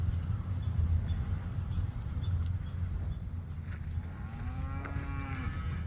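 A single cow moos once near the end, a drawn-out low call over a steady buzz of crickets in an open field.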